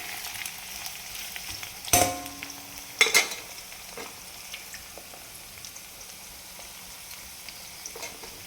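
French fries sizzle gently in hot oil, a soft steady crackle with two louder bursts of spitting near the start, close by and without speech.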